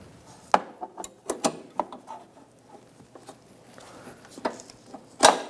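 Ratchet wrench with a short 1/4 inch drive and 10mm socket snugging bolts on a 2012-2018 Ford Focus windshield washer reservoir, a few spaced clicks and sharper ratcheting bursts, close and fairly quiet with no talk.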